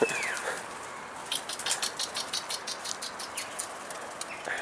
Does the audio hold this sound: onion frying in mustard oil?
no